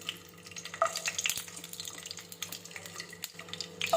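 Garlic dropped into hot cooking oil for a lentil saaru, a soft, continuous sizzle close by with watery crackling and a few light stirring sounds.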